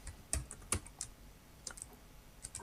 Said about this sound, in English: Why am I pressing so much things on my keyboard?